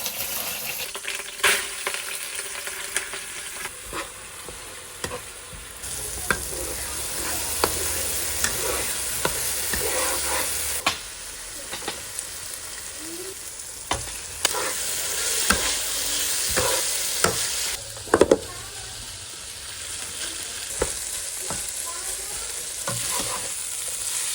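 Nasi goreng ingredients frying in oil, a steady loud sizzle with frequent scraping and stirring knocks from the pan throughout, no voices.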